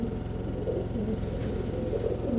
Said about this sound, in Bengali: খাতারনাক কবুতর এই জোড়াটা